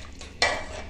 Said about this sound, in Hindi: और एक बार इसको अच्छे से चला करके गैस पर चढ़ा देते हैं